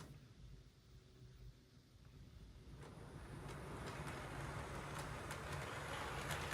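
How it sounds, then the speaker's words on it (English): Graham Farish N gauge parcel and newspaper vans on metal wheel sets roll over curved Setrack points, a faint rumble that builds into a louder, steady rattling run with a few sharp clicks from the rail joints. "a rake of Graham Farish parcel and newspaper vans, each running with metal wheel sets"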